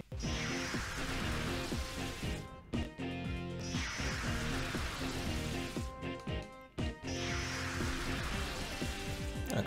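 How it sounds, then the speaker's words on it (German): Steady rain weather effect from the Pokemon XD video game, a continuous hiss of falling rain with game music layered over it, looping in repeated sections with brief dropouts. "Oh, dieser dämische Regen."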